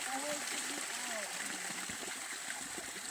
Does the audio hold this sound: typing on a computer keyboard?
no